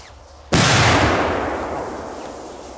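A small Polish firework explodes with a single sharp, loud bang, its broad burst decaying slowly into a long rolling echo outdoors over about two seconds.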